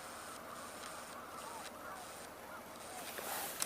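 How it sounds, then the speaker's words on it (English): Tundra swans call from a distance in winter wetland habitat, a steady wash of soft honking notes running through the whole stretch, with a brief louder note near the end. "Oh, I hear tundra swans"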